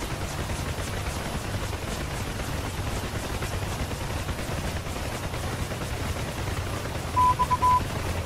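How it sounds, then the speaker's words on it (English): UH-1H Huey helicopter turbine and rotor in the DCS flight simulator, throttle rising toward flight idle: a steady, dense, loud whine and rumble that holds constant throughout, with a rhythmic rotor beat running under it. "Increase the throttle, let the RPM come up to flight idle."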